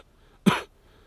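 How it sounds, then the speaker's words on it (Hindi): A single short cough, close and fairly loud, in an otherwise quiet moment. "आपको खांसी हो गई है क्या?"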